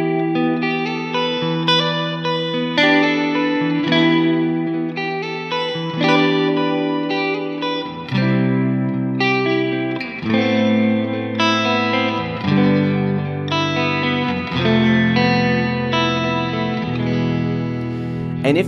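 Electric guitar played through a Strymon BlueSky plate reverb with a light modulation setting: sustained chords and notes ring out continuously, with lush, shimmering reverb tails and no talking.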